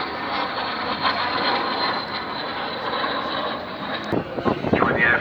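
A Royal Canadian Air Force Red Knight trainer jet roars overhead at an air show as a steady engine rush. An announcer talks over it and a crowd is faintly audible.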